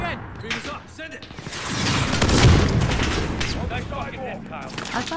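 Missile strike blast and gunfire in the Modern Warfare campaign embassy mission: dense rolling explosion and rapid shots build to a loud peak, with radio-style voices and battlefield chatter mixed throughout.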